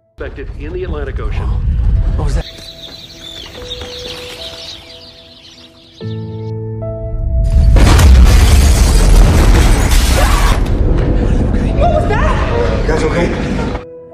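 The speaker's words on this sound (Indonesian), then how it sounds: "Suara ledakan dari luar rumah disusul gelombang kejut yang bikin kaca bergetar." A comet fragment explodes outside a house with a deep boom, and the shock wave rattles and creaks the window glass in a loud, sustained roar, with voices talking over the commotion.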